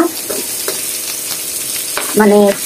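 Kakrol (spiny gourd) frying in fish oil in a pan, a steady sizzle with a few stirring scrapes and a brief louder clatter near the end, close and alone without voices.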